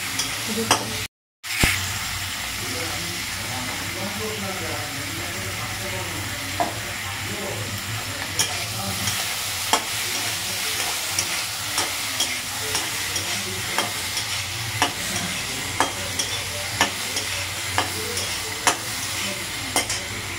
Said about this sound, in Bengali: এটাকে লাল লাল করে ভেজে নেবো আমরা।